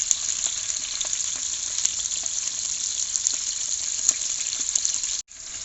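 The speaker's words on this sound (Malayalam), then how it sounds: "പച്ചമുളക് നമ്മൾ ആ വെളിച്ചെണ്ണ അകത്തേക്ക് ഇട്ട് ഒന്ന് ചെറുതായിട്ട് ഇളക്കി കൊടുക്കുക" Green chillies fry in coconut oil with a steady, close crackling sizzle and occasional stirring scrapes, then a brief cut near the end.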